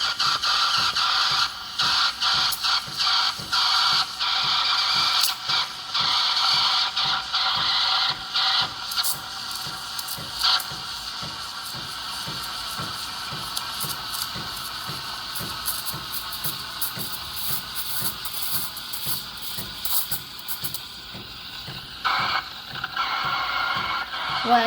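A Gemilai 3005G espresso machine's steam wand texturizing milk, giving a continuous loud hiss with gurgling and stretching noise that shifts slightly in tone over time, close up and without speech.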